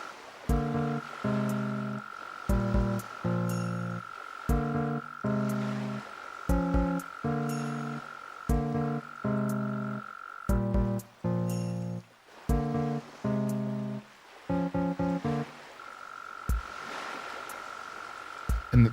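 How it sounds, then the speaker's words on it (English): A mole cricket in the Animal Crossing video game gives a steady, thin chirping trill that drones on alongside a bouncy, pulsing game melody, with no talking. "the random mole cricket kind of chiming in, it actually worked"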